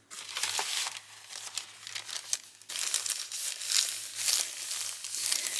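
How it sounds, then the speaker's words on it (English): Thrifted papers and cards for a junk journal are handled close up, giving repeated bursts of loud crinkling and rustling with brief pauses between, over a faint low hum. "I love the sound of all the crinkling paper"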